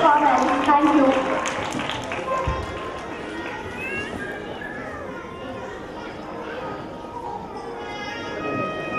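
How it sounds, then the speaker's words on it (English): Scattered applause and clapping from a crowd at a children's playschool celebration, a brief burst at the start fading into hubbub while someone speaks over a microphone. "all your hands together for this wonderful performance"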